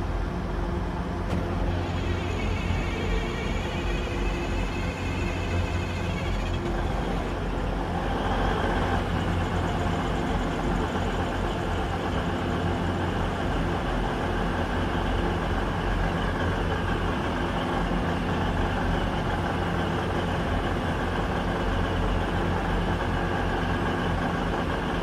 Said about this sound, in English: And now we can turn on the engines.